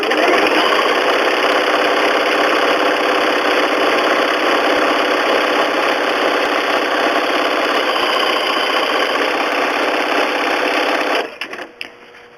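Sewing machine satin stitching a moose applique on fabric, a loud, steady, fast mechanical whir running unbroken for about eleven seconds before stopping abruptly, with no talk.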